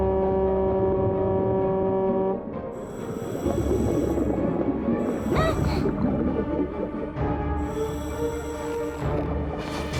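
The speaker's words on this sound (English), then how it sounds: "The air horn." Deep, blaring horn blasts sound in long sustained tones, loud and close, with a brief break before the horn sounds again.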